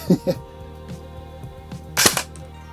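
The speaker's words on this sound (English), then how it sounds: "I will try to let off a couple of single shots and then let rip full auto" Single shots from an S&T Nambu Type 100/40 airsoft gun, a few sharp separate pops spaced apart, with a louder crack near the end.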